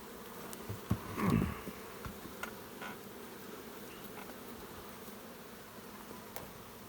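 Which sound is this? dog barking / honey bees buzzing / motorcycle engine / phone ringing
honey bees buzzing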